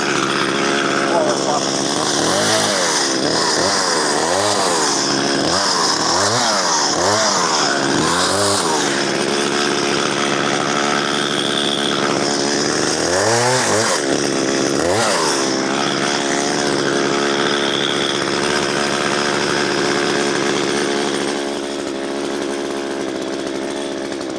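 A chainsaw runs nonstop while cutting into a dead spruce tree during felling, its engine loud and close, repeatedly revving up and dropping back in surges before settling into a steadier idle drone.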